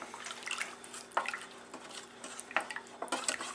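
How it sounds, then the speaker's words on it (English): Wooden spoon stirring thick focaccia bread dough in a bowl, giving soft wet slaps and a few sharper knocks against the bowl in an irregular rhythm, close by and without speech. "So switch to your wooden spoon, stir this in."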